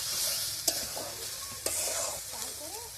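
Ginger and garlic stir-frying in hot oil, a steady close sizzle broken by two sharp scrapes of a spoon against the pan.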